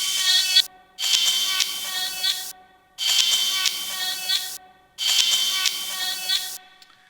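A sample run through a high-pass filter on a Blackbox 2.0 sampler, thin and tinny like a radio, playing in three repeated bursts separated by short silences.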